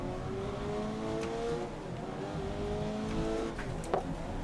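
A Honda S2000 race car engine in GRID 2019 drones at high revs with shifting harmonic tones, continuous and fairly close, with a brief sharp transient near the end.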